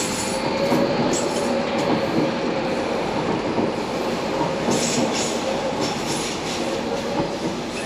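A DLR light-rail train runs steadily nearby, a continuous rumble of wheels on track with faint clickety-clack and light squeal, no voices.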